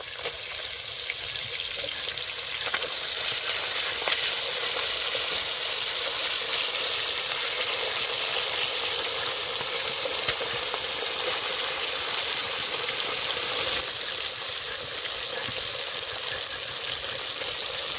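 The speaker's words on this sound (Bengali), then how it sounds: "যে কটা মাছ আছে সে কটাও ভেজে নেব" Bhola fish sizzle and crackle in hot oil, a steady frying hiss close by, continuing without speech.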